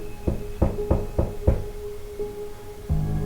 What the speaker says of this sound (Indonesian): ketika kita tidur lalu tiba-tiba ada suara ketukan pintu